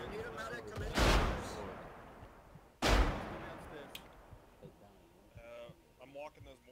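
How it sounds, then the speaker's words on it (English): Two heavy mortar-round impacts in a military video game set at a US Army forward operating base, loud broadband blasts about two seconds apart with decaying rumble, followed by quieter radio chatter and voices talking. "I'm walking those mortar rounds out"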